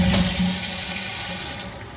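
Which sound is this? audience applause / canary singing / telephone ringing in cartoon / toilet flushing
toilet flushing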